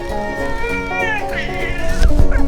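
A pet cat meows in a home while music with harmonic tones plays throughout, the cry rising over the music and growing louder toward the end of the short clip.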